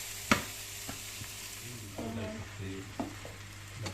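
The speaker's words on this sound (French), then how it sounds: "Voilà, notre tomate est en train de cuire." Chopped tomatoes for lasagne cook in a pan with a quiet, steady sizzle, broken by a few soft clinks and stirring scrapes of a utensil.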